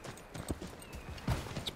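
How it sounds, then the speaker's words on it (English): Hoofbeats of a stolen horse in Assassin's Creed clop along in an uneven, moderately loud trot, with a brief louder knock at the very end. "Look at this horse, dude."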